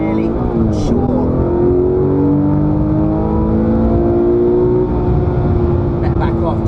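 Porsche 991.1 GT3 engine revving hard as the car accelerates on a public road, a loud, steady rising wail climbing through the revs with a brief shift dip near the start, with a voice speaking over it.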